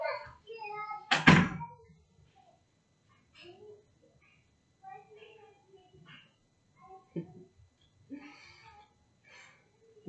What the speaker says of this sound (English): Go, close the door and be quiet.